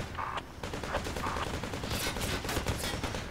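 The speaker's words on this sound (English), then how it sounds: "I think the APC is shooting." An armored personnel carrier fires in the tactical shooter Project Reality, a rapid, loud burst of heavy automatic gunfire rattling continuously for a few seconds at close range, with no talk.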